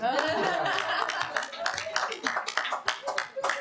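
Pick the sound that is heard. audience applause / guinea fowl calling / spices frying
audience applause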